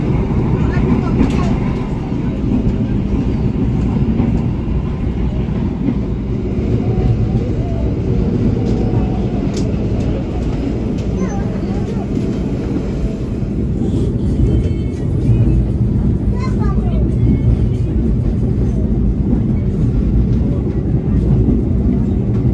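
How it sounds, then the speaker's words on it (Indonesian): Steady, loud rumbling of Argo Semeru train wheels on rails with constant rattling and shaking of the carriage throughout, muffled voices faintly beneath. "menikmati ASMR guncangan dan deru roda kereta api Argo Semeru"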